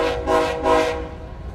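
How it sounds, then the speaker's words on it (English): BNSF locomotive 1776 backing down to the pit, two short horn blasts close by over a low rumble of the moving train, with no talk. "we got the BNSF 1776 backing down to the pit"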